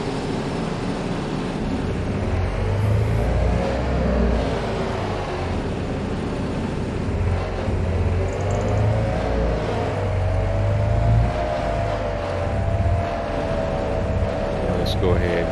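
In Farming Simulator 25, a tractor engine drones at a steady low rumble with a wavering whine above it, continuous and close, while someone talks over it.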